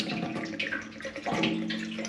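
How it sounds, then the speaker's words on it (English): Water pours into an emptied gas tank from a rebuilt Kawasaki KLR motorcycle, a steady close splashing rush with a hollow, resonant tone that swells midway and keeps running to the end. "pour some water in there,"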